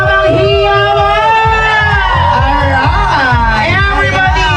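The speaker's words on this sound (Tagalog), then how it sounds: "Wala po bang isang malakas na palakpakan na may kasamang hiyawan?" Crowd at the Agila Run cheering and whooping with loud voices, dense shouting and hollering layered over thumping rhythmic music, close and continuous.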